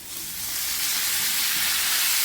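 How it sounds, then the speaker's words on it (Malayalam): Chopped tomatoes sautéing with onions in a pan for ridge gourd gojju, a Kannada dish: a steady, close hiss of sizzling that swells slightly and holds evenly throughout, with no voices. "തക്കാളിയും കൂടെ ചേർത്ത് നന്നായിട്ട് നമുക്ക് വഴറ്റിയെടുക്കണം"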